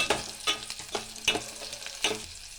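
Onion fries in hot oil for a horse gram sambar, heard as a soft sizzle broken by five or six sharp scraping stirs of a spoon at roughly half-second intervals, close but quiet.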